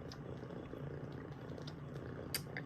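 A kitten purrs softly and continuously at close range, a low rhythmic rumble under quiet room tone with a few faint clicks and rustles.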